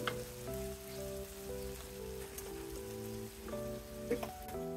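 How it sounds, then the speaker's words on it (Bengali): Eggplant slices sauté in a spice paste over medium heat, giving a continuous light sizzling patter under steady background music, with a few small clinks and stirs. "এবার বেগুনের ফালিগুলো দিয়ে দেব। মশলার সাথে একটু কষিয়ে নেব 2 থেকে 3 মিনিটের মতো।"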